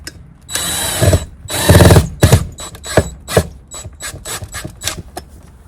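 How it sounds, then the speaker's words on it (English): Exterior screws are driven through a light fixture into a wood wall outdoors, producing a loud close whir of the driver in two longer bursts, then a series of shorter clicking, ratcheting bursts, with no speech. "I've got these exterior screws we're going to use to attach it to the wall"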